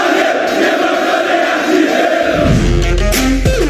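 Vasco da Gama supporters gather at an airport in January to greet their Argentine striker, a dense crowd of voices singing and chanting together in one continuous loud roar, with a horn-like tone rising near the end.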